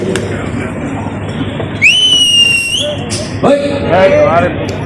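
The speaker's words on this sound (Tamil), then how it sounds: "மௌனஞ்சலி விசில் அடிக்கிறார்." A whistle is blown at a farmers' association rally to mark a moment of silence, a loud sustained shrill blast of about a second, followed by a shorter wavering blast over crowd murmur and speech.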